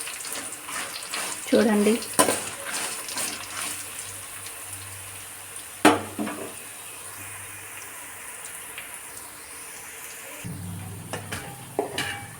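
Dried red chillies fry in a hot pan for gongura chutney, giving a steady low crackle and hiss with a few sharper clinks, while someone talks over it.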